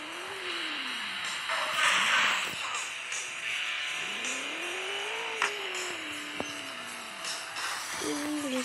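Engine of a car in a mobile racing game revs up and down in repeated rising and falling sweeps, fairly clear and steady, with brief skids and game effects between pulls.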